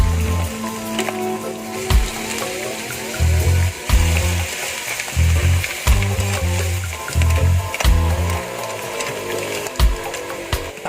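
Mussels sauté in a pan with tomato, giving a steady crackling sizzle with wet bubbling and stirring clatter throughout, close and fairly loud with no talking.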